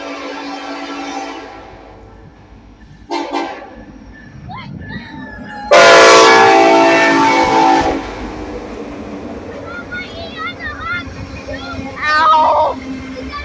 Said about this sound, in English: How long does this train go on for?